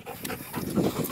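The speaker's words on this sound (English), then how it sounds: "I like that dog." A shepherd dog pants on a hiking trail near a waterfall in Malibu, giving a brief burst of quick, breathy huffs close by amid outdoor ambience.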